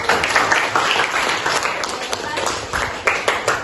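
An audience of teachers and students applauds at a school literacy ambassador selection event, a steady, dense round of clapping in a room with a voice speaking over it.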